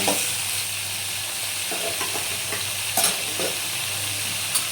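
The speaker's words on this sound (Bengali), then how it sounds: "ভালো করে ভেজে নিই। নুন দেওয়া আছে, নরম হয়ে যাবে কিছুটা।" Salted papaya pieces fry in a pan with a steady, close sizzle and a few stirring scrapes and clinks, no talk.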